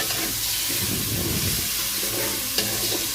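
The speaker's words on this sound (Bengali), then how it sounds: "একটু হালকা ভেজে নিবে" Small pieces of chicken breast frying in a pan with cinnamon, a dense steady sizzle with stirring scrapes and a sharp clink near the end, close and without speech.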